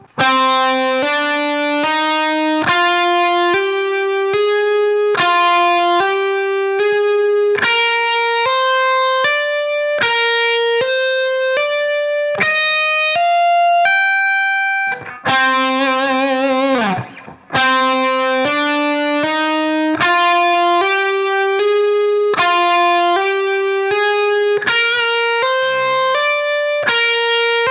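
Electric guitar lick through distortion, played several times up to speed and then slowed down, a long run of bright, sustained picked notes climbing and falling in repeated phrases, loud and close with no talking.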